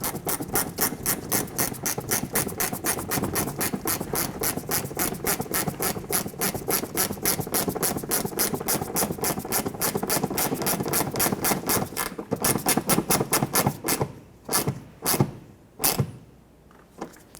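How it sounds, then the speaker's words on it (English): A bolt is threaded into the body of a 2005-2010 Pontiac G6 while fitting a rear mud flap: a long, fast, even run of close mechanical clicks, easing into a few spaced clicks at the end. "I'm going to thread in this bolt."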